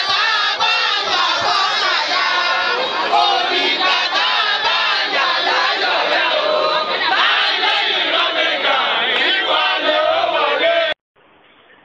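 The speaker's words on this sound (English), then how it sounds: "The outreach politician was received by a massive crowd of party supporters." A massive crowd of party supporters at a political rally for a senator touring local government areas in Nigeria cheers, shouts and chants in a loud, continuous roar that cuts off abruptly near the end.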